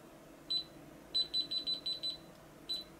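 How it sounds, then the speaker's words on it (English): Short high-pitched electronic beeps from a Kaiweets KM601 digital multimeter's voltage detector: one, then a quick run of six evenly spaced beeps, then one more, over a quiet background hum. "Beeping and the red light comes on."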